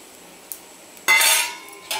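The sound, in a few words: stirring chili powder into roasted masala in pan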